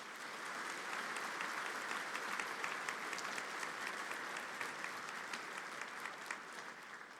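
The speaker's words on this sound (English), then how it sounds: "They deserve a round of applause, too." Steady, dense applause from a commencement ceremony audience, many hands clapping evenly throughout at moderate volume with no talking over it.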